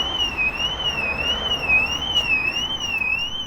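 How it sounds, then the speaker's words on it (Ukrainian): A car alarm sounds on a burgundy used car imported from Switzerland, a loud, close, continuously warbling electronic tone that rises and falls steadily without a break. "О, сигналізація спрацювала."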